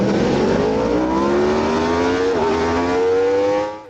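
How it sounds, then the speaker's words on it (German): A racing motorcycle engine roars at a race start at the Brno Automotodrom, a loud, steady high-revving drone with a slight pitch dip partway through before fading out at the end. "Das Motorrad ist zweimal direkt zum Wheelie hochgegangen."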